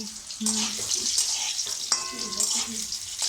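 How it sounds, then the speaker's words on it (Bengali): Potatoes being stir-fried in a pan: a constant bright sizzle with spatula scrapes and light stirring clatter, close up, with no talking. "আলু ভাজি"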